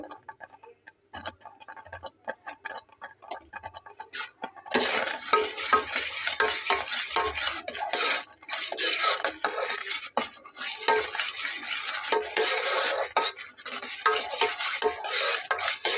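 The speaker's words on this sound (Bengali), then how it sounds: "খুব ভালোভাবে নেড়ে চেড়ে মিলিয়ে নিয়ে আমি আলাদা একটা পাত্রে এটাকে ঢেলে নেব।" A sweet dessert mixture with a spoonful of ghee being stirred in a pan, starting with quiet light ticking and then turning into loud, sustained scraping and clinking of a spoon against metal.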